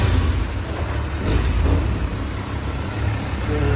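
A 2024 Kawasaki ZX6R motorcycle engine runs near 7,500 RPM after a service, a steady dense mechanical drone that stays loud and even throughout without talk.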